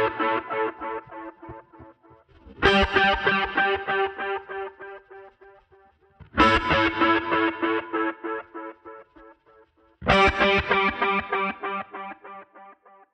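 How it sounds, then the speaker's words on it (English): Electric guitar through a Line 6 Helix plays three loud, bright strummed phrases, each trailing into heavy dotted-eighth delay repeats that decay rhythmically, with no band behind it. "It has those heavy dotted eighth delayed repeats."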